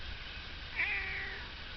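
A cat in a berry garden in Western New York gives one clear, drawn-out meow partway through, fairly close, over a low outdoor background hum.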